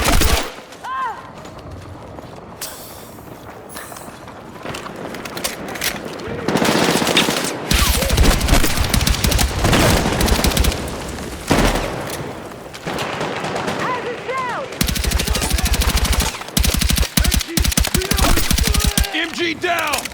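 Rapid bursts of machine gun fire rattle through a battle in the video game Battlefield 6, mixed with other gunshots and explosions, while voices shout over the combat.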